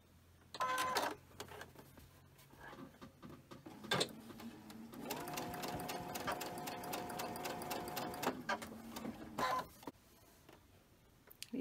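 A sewing machine stitches small fabric strips, running in short starts and a longer steady burst of rapid mechanical chatter at close range, with light handling noises between runs and no voices.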